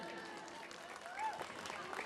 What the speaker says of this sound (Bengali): তো লাইটম্যানের জন্য, সাউন্ডম্যানের জন্য জোরে একটা হাততালি